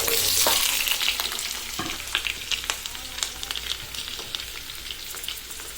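Onion, garlic and green chilies fry in hot oil in a wok, a loud hissing sizzle with scattered spatters and clinks of stirring that settle slightly toward the end.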